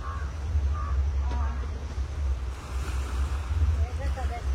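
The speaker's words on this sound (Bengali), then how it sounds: "আর আমি খুব ভালোভাবে শুনতে পাচ্ছি সমুদ্রের আওয়াজ" Sea surf rolling onto a beach beside a seaside resort, a steady low roar of waves under wind buffeting the microphone, with faint bird-like chirps nearby and no speech over it.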